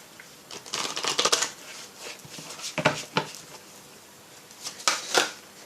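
Tarot cards being shuffled by hand, several short papery riffling bursts with quiet pauses between them, close and fairly soft.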